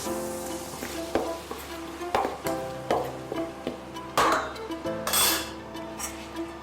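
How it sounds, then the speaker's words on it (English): Spicy cracker ingredients being mixed in a bowl, with repeated clinks, taps and scrapes of a utensil against the bowl in an uneven rhythm, close and clear. "Okay, mix it all up again."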